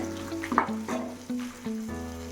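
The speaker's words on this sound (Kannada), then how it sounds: "ಹಾಕ್ಕೊಂಡು 1 ನಿಮಿಷ ನೀಟಾಗಿ ಫ್ರೈ ಮಾಡ್ಕೊಳ್ಳಿ." Curry leaves and other ingredients for mint chutney fry in a pan, with a soft close sizzle and a few scraping stirs over a steady tonal background hum.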